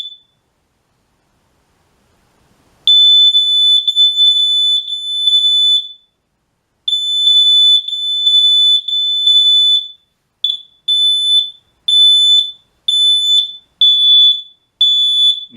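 Kidde wireless smoke alarms being tested, loud shrill piercing beeps in long sustained bursts, then shorter pulsed blasts in a repeating pattern, after a quiet start.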